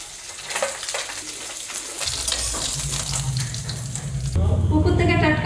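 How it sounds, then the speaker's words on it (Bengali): Fish frying in a pan for a panta bhat meal, a steady hiss and crackle of sizzling oil throughout, growing louder near the end with some clatter, close up. "এই যে পান্তা ভাত খাওয়ার জন্য মাছ ভাজা বসিয়ে দিচ্ছি"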